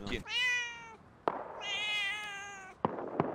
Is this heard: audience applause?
no